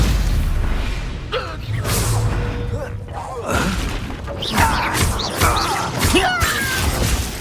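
Stupefy spell cast in the Hogwarts Legacy video game, a burst of magical impact with booming, shattering hits and crackling swishes over a busy game soundscape, with talking in the background.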